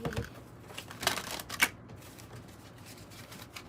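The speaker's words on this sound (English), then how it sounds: "I think we have shuffled pretty good" Tarot cards riffle and shuffle in a few quick bursts, then soft handling noises continue in a quiet room.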